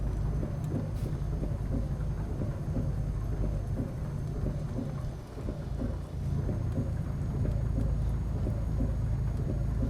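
Steady heavy rain falls under a deep, continuous rumble of thunder in the video game Euro Truck Simulator 2, loud and enveloping, with a constant low truck engine drone beneath.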